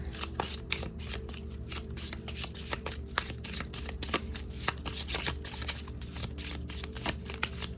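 Tarot cards are shuffled and drawn by hand, a fast, steady run of crisp riffling flicks and soft slaps, close and continuous, without speech.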